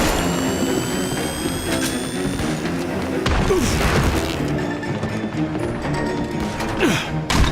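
A grenade blast in The Bureau: XCOM Declassified goes off in the middle of a loud firefight, a sharp burst of noise around the third second that rises above continuous combat clatter and mechanical din.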